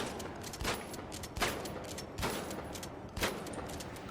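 Rapid video game gunfire as a weapon is tested, four loud bursts spaced roughly a second apart over a constant noisy bed.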